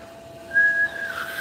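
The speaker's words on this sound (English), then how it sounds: "I was trying to roll at the same time as whistling." A person whistles a short, steady note while trying to roll the whistle like a rolled R, the tone rising into a brief louder burst before wavering and trailing off alone.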